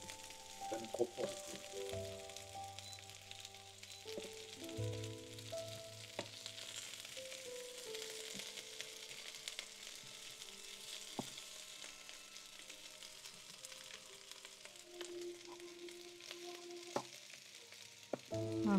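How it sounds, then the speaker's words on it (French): Potatoes frying in a pan give a soft, steady sizzle, faint and close, with occasional clinks and stirring noises from utensils. "Il va falloir que j'aille surveiller les pommes de terre parce qu'après, elles vont être trop grillées."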